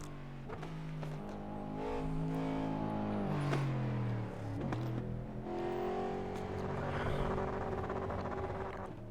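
A Toyota Corolla from the Brazilian Stock Car Pro Series, driven in the iRacing simulator, revs up and down through gear changes with a loud, continuous, droning engine note and brief dips between shifts.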